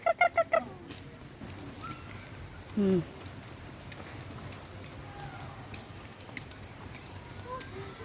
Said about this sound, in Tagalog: Nay pato.